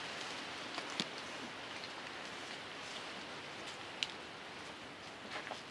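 Steady rain falling outdoors, a soft continuous patter on surfaces with a few louder drops, fairly faint and even throughout, no voices.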